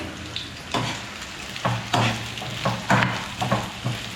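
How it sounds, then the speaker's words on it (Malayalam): Sliced onions for prawn biryani fry in a pan, sizzling continuously while a spoon scrapes and stirs them in several distinct strokes, close up and with no talking. "അപ്പോൾ ഈ സവാള ഇതിലോട്ട് ഇട്ട് കൊടുത്തിട്ടുണ്ട്. ഇനി ഇത് വറുത്തെടുക്കാം."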